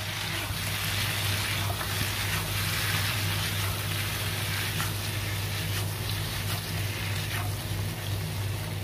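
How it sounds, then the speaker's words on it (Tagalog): Squid curry masala sizzling and frying in a pan while being stirred, a steady loud hiss and crackle with a constant low hum underneath throughout. "Haluin lang natin mga ka-friends."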